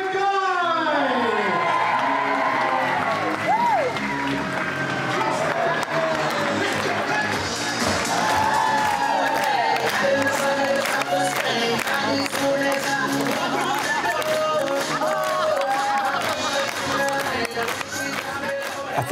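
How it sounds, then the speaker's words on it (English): A party crowd at a lavish children's birthday celebration claps and cheers continuously, loud and dense throughout, with whoops and shouts layered over lively music. "Ladies and gentlemen, our biggest round of applause and cheer."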